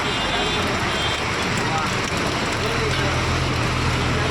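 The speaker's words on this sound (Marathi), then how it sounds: "पाऊस काय दिसू जोर सोडणारच नाही" Rain pours at an outdoor village market in Konkan, a dense, loud, continuous wash of noise with a low rumble underneath and muffled voices faintly beneath it.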